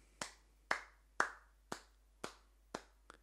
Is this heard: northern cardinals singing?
no